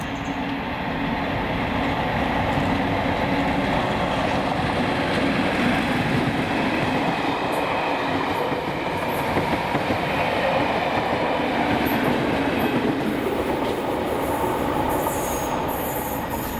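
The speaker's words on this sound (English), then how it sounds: "this is then Carstdyke at around 2050 with 37219 back leading to Gourock" A train led by locomotive 37219 passes Cartsdyke in Scotland toward Gourock in the evening, a steady rumble of wheels with squeals and rhythmic clickety-clack, fairly close and continuous, with no talk.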